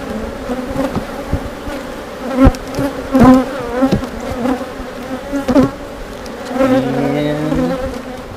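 Honey bees buzzing steadily around an open hive with an absconded frame of nectar, a close, continuous drone with rising and falling individual flybys and a few sharp knocks, no voices.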